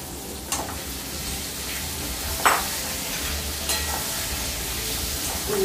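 Liver hits a hot pan of well-cooked spices for a jhalfrezi, sizzling and frying in a steady loud hiss, with a few scrapes and stirs of the spoon along the way.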